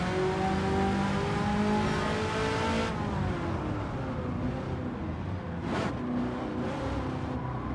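Race car engine in Gran Turismo 7, a steady loud engine drone with harmonic whine shifting pitch as it revs and changes gear, plus a brief whoosh near the end.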